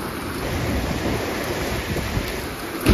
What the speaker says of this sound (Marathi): पाऊस जोरात पडतो काही सहा देखो अरे वा वादळ तिकडे बघ